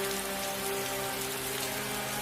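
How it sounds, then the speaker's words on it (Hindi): Heavy rain pours steadily over a village in a cartoon, a dense, continuous hiss of drops on roofs and ground with faint tonal hum beneath, no voices. "देखते ही देखते बारिश पूरे गांव पर कहर बनकर टूट पड़ती है।"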